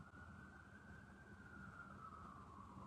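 A distant siren wails steadily through the low hum of an indoor room's ambience, faint but continuous and holding a gently wavering pitch throughout.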